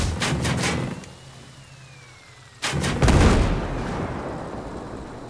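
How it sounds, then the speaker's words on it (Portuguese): A car blows up in Ghost Recon Breakpoint: a loud burst and crackle fades to a low rumble, then a second heavy blast hits with a sustained roaring tail, no talking over it. "Vai, para aí, vai explodir, Thiago."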